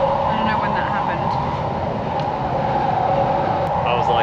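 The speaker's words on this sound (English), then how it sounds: "We're still on the same train." Steady rumble and rolling drone of a passenger train travelling forward along the tracks in Beijing, heard from inside the carriage, continuous and fairly loud with faint background voices.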